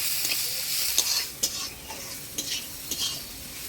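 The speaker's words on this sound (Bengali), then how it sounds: "এবার দিয়ে দিব পেঁয়াজ, রসুন, লঙ্কা, সব কিছু ভালো করে ভাজা ভাজা করে নিব।" Dried shrimp frying with onion, garlic and chili in a village kitchen pan sizzle steadily while a utensil stirs and scrapes, with several sharp clinks scattered through.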